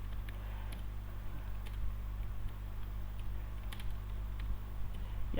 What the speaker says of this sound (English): Now I am typing that.